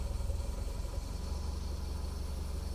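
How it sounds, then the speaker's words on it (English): A 1972 Triumph Spitfire Mk IV engine idles with a steady, low throbbing rumble, close and even throughout. "Look at that, idling lovely."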